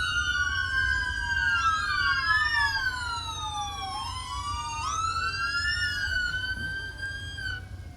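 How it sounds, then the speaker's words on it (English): Police motorcycle sirens wailing at a Christmas parade in Kannapolis, several overlapping sirens rising and falling together over a low engine rumble, loud and continuous with no voices. "we're just going to let everybody enjoy the sirens for a little bit"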